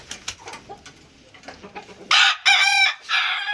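A rooster crows loudly and close by, a few long harmonic calls following softer scattered clucks and rustling from hens.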